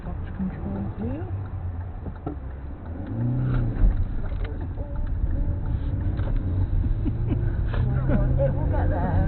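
Car moving slowly in gear under clutch control, a steady low engine drone with a slight rise in level partway through, while people talk inside the cabin.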